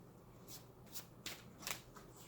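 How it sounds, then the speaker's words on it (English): Tarot cards shuffled by hand, quiet and close, with four short riffling bursts spaced unevenly across a couple of seconds against a soft room hiss. "I'm going to try to do one really good shuffle"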